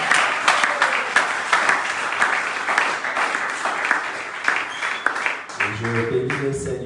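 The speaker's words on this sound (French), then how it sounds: "Est-ce qu'on peut acclamer le Seigneur?" A church congregation claps and cheers in praise, the applause steady and full throughout, with a voice speaking over it toward the end.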